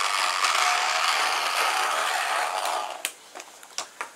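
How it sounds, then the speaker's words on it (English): Turning bevel gears give a dense, close mechanical grinding whir with a ratcheting texture, running steadily for about three seconds before breaking into a few separate sharp clicks and knocks. "These gears here are called bevel gears."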